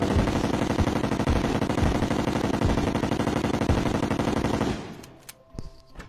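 Rapid automatic gunfire from a weapon in the video game Terraria, used while fighting the Moon Lord, rattles continuously and loudly for about five seconds, then stops, leaving a few faint game sounds.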